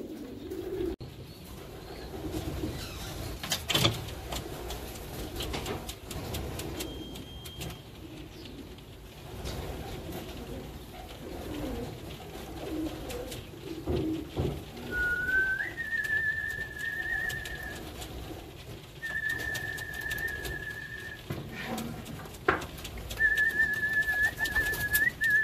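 Racing pigeons arriving at a loft after a 360 km race in the rain near Madrid, Spain, with soft cooing and bird calls, a recurring sustained whistle tone and steady outdoor background noise.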